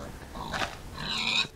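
Minecraft pig squealing as it is struck, two short grunting squeals in quick succession, fairly close and clear, with no talk over them.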